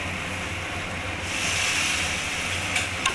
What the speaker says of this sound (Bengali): এবার আমি মটরটা দিয়ে দেবো, সিদ্ধ করে রাখা।